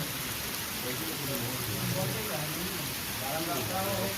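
Heavy monsoon rain pours steadily onto surfaces across waterlogged Punjab farmland, a dense, unbroken hiss with faint pattering underneath, continuous and fairly close throughout.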